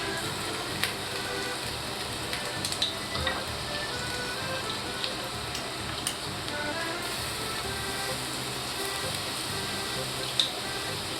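Garlic sizzling in a pan for drunken mussels, a steady close crackle and hiss with occasional sharper pops, continuous and without talk.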